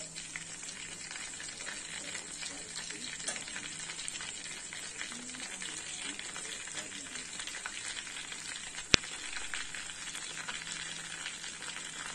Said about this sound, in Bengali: তোলার সময় হাই ফ্লেমে দিয়ে লাল লাল করে ভেজে নিয়ে তুলে নেবো ওটা আমরা।